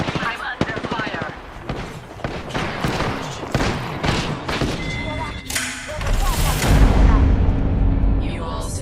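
Rapid gunfire and thuds crackle through a squad battle in a video game, bursts of shots rattling over a steady backdrop while voices speak over the action.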